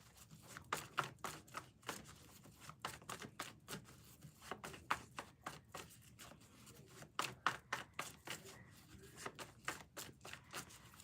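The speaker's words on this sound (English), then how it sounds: "Sorry, I'll be shuffling." Tarot cards are shuffled in quick bursts of crisp riffling and flicking, repeating steadily at close range, fairly quiet with no talking.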